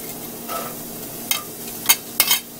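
Finely chopped garlic and onion hit a pan for a creamy shrimp pasta, giving a low background sizzle with three or four short, bright scraping bursts near the end. It is close and brief, with no speech.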